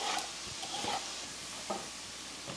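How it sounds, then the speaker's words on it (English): Lean ground beef cooking in a pan on a stovetop, stirred now and then, giving a soft steady sizzle with a few brief scraping stir sounds. "Let's give that a stir over there."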